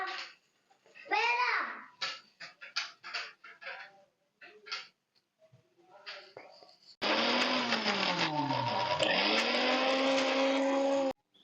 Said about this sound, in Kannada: ಮಿಕ್ಸಿಗೆ ಹಾಕಿದ್ರೆ ಮ್ಯಾಂಗೋ ಜ್ಯೂಸ್ ರೆಡಿ ಆಗಿಬಿಡುತ್ತೆ